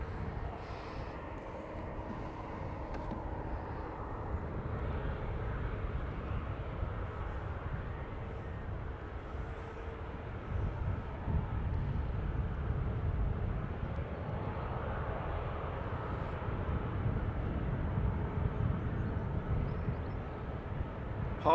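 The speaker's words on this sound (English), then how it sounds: "320 Neo next, again British Airways, this time from Heathrow instead of London City" A British Airways Airbus A320neo arriving from Heathrow at Dublin Airport's north runway gives a soft, distant, steady jet rumble that swells slightly midway, with no voices.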